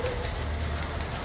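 Racing pigeons settling on a rooftop after landing, with soft low cooing half-buried in a steady wash of outdoor noise and low hum.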